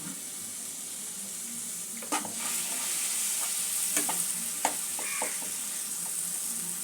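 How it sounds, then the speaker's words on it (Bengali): A spice mix for chickpea-flour kachori fries with a constant close hiss in a pan after a splash of water, while a spoon stirs and knocks against the metal a few times. "সামান্য একটু জল দিয়ে মশলাটা কষে নেব। অল্প একটু জল অ্যাড করছি।"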